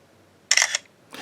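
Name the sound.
BlackBerry Priv phone camera shutter sound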